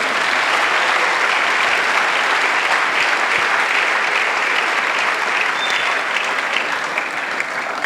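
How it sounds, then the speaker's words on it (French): A large crowd at an evangelism crusade in Douala claps loudly and continuously, a dense, even wash of applause that holds steady and eases slightly near the end. "Acclamons pour Jésus."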